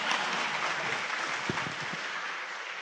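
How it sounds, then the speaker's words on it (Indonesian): An audience at an Indonesian talk applauds, with a steady wash of fairly quiet, even clapping lasting the whole moment and no voices. "kalau mau tepuk tangan yang ikhlas Pak"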